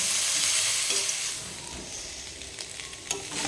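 Agra data vegetable stems sautéed with cumin powder in a pan, a steady close sizzle with stirring scrapes, strongest at first and easing slightly, no voices.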